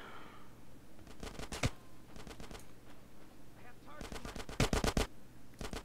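AK rifle fire in GTA San Andreas comes in several rapid automatic bursts, sharp and loud, separated by brief pauses, with someone speaking during gaps.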